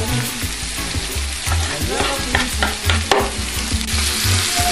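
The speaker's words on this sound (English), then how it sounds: "I'm going to add myself now some tomatoes. Just evenly around the pan." Chopped tomatoes sizzle and crackle in a hot frying pan with saltfish and butter beans for a Jamaican dish, with steady frying noise and repeated stirring scrapes throughout, no talking.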